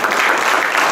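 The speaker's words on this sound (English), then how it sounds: "You can applaud for that, because I believe that." An audience applauding at a county executive's speech, a loud close wash of many hands clapping, dense and steady for a moment.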